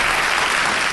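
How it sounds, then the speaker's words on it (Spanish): A television studio audience bursts into loud, dense applause to greet a guest on a talk show, a continuous close wash of clapping with no voices over it. "Recibimos con un fuerte aplauso a..."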